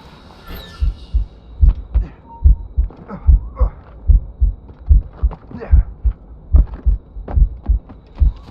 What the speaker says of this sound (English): Moving keeps my heart beating.